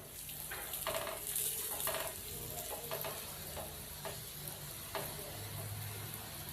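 Mooli paratha cooking in ghee on a hot pan, with a steady soft sizzle and occasional light scraping as the flatbread is turned, close and continuous at low volume.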